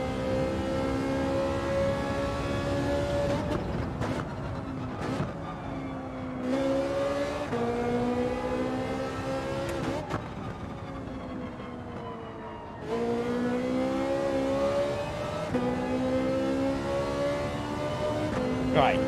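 A car in Gran Turismo 7 accelerates through a corner, its engine rising in pitch and dropping at several gear shifts, with someone talking over the steady drone.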